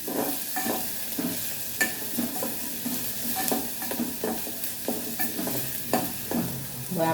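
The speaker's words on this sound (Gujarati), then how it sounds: "ડુંગળીને આપણે પહેલાં સાતરી લઈશું થોડું બ્રાઉન રંગની થાય ત્યાં સુધી આપણે એને ચડવા દઈશું" Chopped onions sautéing in a pan until brown for a green chickpea curry, with a constant close sizzle broken by regular stirring scrapes and taps throughout.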